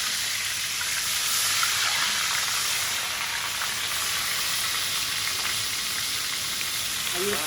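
Soft shell crab frying in hot oil for a po boy, a steady dense sizzle and crackle that holds evenly throughout with no talk over it.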